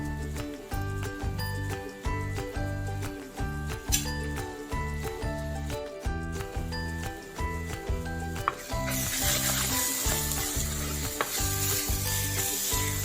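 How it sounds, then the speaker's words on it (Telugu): Onions fry in oil for a pulasa fish curry with a sizzle that grows louder in the second half. Occasional clinks of a spoon come through beneath prominent rhythmic background music. "ఉల్లిపాయ వేగేటప్పటికి నూనె అయిపోయింది మళ్ళీ ఒక మూడు స్పూన్ నూనె వేసాను"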